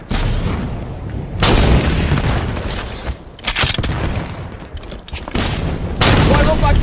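Explosions and rapid gunfire in the Halo 5 video game, with loud booms and bursts of shooting in several waves while in-game voices shout over the combat.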